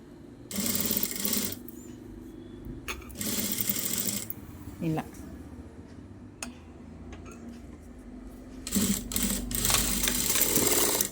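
A sewing machine stitching self piping onto a saree blouse, running in three distinct bursts of rapid ticking stitches, close by, with someone talking between and over the runs.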